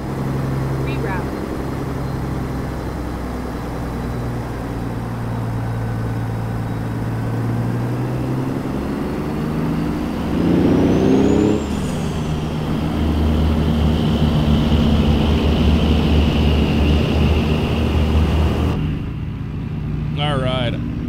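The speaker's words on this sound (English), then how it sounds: "I think I still need to turn the traffic down a little bit. It's a little loud" Road traffic in American Truck Simulator, driving through Texas in a Jon Ruda Classic XL truck: a steady engine drone with passing vehicles whooshing by, one louder pass midway, and a voice talking over it.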